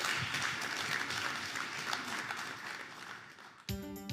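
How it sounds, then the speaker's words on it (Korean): Audience applause welcoming a Seoul National University chemistry professor to a lecture, a steady dense roomful of clapping lasting several seconds before cutting off abruptly into a voice. "큰 박수로 김병문 교수님을 환영해 주시기 바랍니다"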